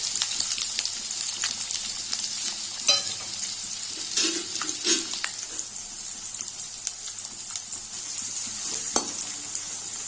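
Steady sizzling of chopped onions frying in a pan with cinnamon and curry leaves, with occasional scrapes and clinks of a utensil stirring through it.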